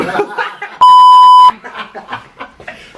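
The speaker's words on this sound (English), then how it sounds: "I'm gonna beep all those words out." A loud, pure electronic tone bleeps for about half a second, cutting into casual talking and soft chuckling.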